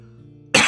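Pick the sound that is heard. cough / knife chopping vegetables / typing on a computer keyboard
cough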